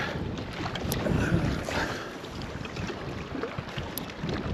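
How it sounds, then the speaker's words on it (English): Wind buffets the microphone while kayak fishing on a reservoir in fall, a steady, loud rushing roar with gusts rising and falling and faint water movement beneath, no talking. "Well, I was not expecting this wind."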